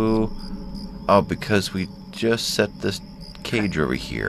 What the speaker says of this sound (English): And suddenly it goes from sweet little crickets to ominous ghosts.